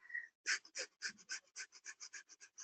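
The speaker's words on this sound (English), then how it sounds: "So breath of fire, I don't know if you can hear this, sounds like this." Rapid, rhythmic forced breaths through the nose in breath of fire breathing, about a dozen short sharp puffs in quick even succession, close and clear with no talking.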